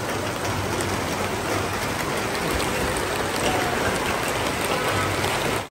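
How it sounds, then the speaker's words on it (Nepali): Heavy rain falling in the hills of Kalimpong, a dense, steady hiss of drops pattering on surfaces, loud and unbroken throughout with no voices. "पानी हेरिहाल्नुहोस् कत्रो कत्रो पर्दैछ"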